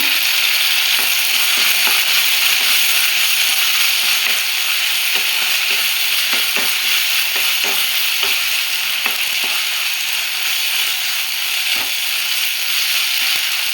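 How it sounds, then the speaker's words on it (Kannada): Tomatoes for rasam cooking in a pan, giving a steady bright sizzle with occasional faint stirring clicks, continuous and close throughout. "ಟೊಮಟೊ ಬೇಯ್ತಾ ಇದೆ."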